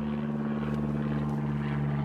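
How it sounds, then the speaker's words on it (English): A propeller airplane drones overhead with a steady, loud, unbroken hum and engine buzz, filling the whole moment with no talk. "Sorry for the plane going overhead."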